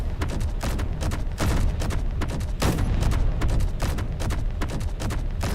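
Dense, continuous barrage of sharp weapon blasts from railguns and other ship weapons in a Space Engineers space battle, loud and tightly repeated with heavier booms mixed in, no speech.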